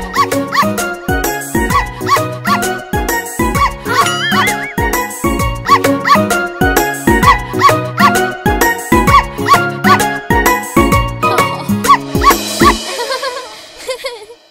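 Cartoon-style dog barks in a Hindi children's rhyme, repeated in quick rhythmic bursts over a bouncy, steadily pulsing music track that is loud and fills the clip before ending abruptly near the finish.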